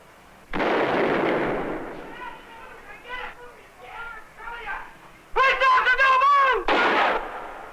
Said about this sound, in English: You've just been shot at.